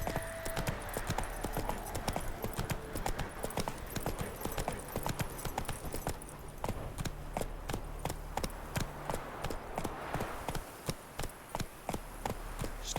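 Roach, a horse in The Witcher 3, clip-clops at a steady trot, hoofbeats close and crisp throughout over a low background score with faint voices.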